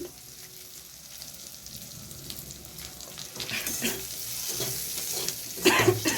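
Spices for a gourd and shrimp curry fry and sizzle in a pan while being stirred, a steady crackle that grows louder and brighter near the end as more goes into the hot oil.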